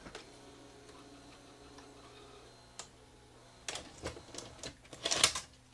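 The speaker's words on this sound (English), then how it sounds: "Let's just eject the tape and see." A Mitsubishi HS402 hi-fi VCR ejects a tape: a quiet mechanical whir with faint ticking gives way to a run of louder clicks and clunks from the tape mechanism near the end, up close.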